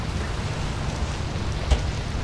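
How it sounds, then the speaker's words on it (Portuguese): Steady rain falls at a house, a dense even patter with a faint low rumble beneath and one brief sharper splash near the end. "Eu sei que tá chovendo na minha casa também,"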